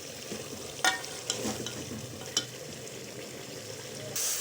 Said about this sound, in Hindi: ये देखें हमारे चनों की बुनाई हो रही है।